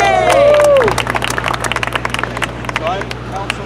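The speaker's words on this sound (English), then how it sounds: "I'm just hope we can all cheer for marriage equality" An outdoor crowd at a New York City rally for marriage equality and accessible sidewalks cheers. A whoop rings out first, then scattered clapping and cheers fade into a murmur, with people talking underneath.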